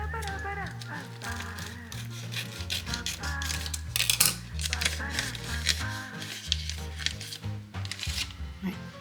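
A small bag of nigari coagulant, the seawater-derived salt for making tofu, is torn and rustled open with crinkly rasps under steady talking and soft background music.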